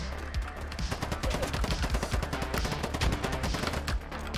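Grenade blasts and rapid gunfire fill a dense firefight in the video game Polygon, with heavy booms and continuous crackling shots throughout.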